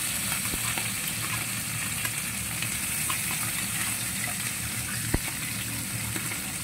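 Fish laid flat in a pan of hot oil sizzles and crackles steadily, a dense close frying hiss that runs throughout with a couple of sharp pops and no talking.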